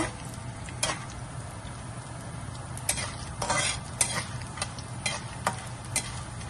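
Peanuts and chana dal roast in a pan and are stirred. Soft steady frying hiss runs throughout, with irregular scraping and clinking strokes of a spoon against the pan. The sound is close and fairly quiet, with no speech.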